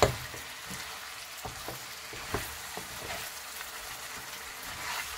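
Condiments fry in a pot for roast chicken, giving a continuous close sizzle with occasional soft stirring knocks and crackles, and no speech.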